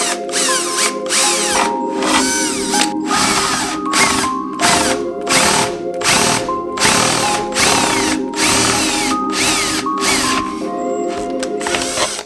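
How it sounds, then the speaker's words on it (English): A power drill bores a hole through a painted plastic tail light on a widebody 240SX, giving a loud, close, continuous whine that pulses in repeated short bursts as the trigger is squeezed and eased. "when you're drilling on plastic that's painted like this, make sure you always put a piece of tape"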